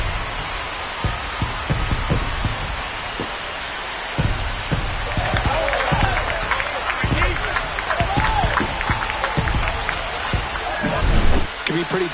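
A home crowd roars and cheers in the baseball video game MLB The Show 25 after a home run, a broad sustained wash of noise under steady commentary.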